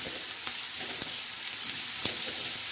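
Onion with green chili thecha sautés in a pan, giving a steady bright sizzle with a few soft stirring clicks, close and without talk.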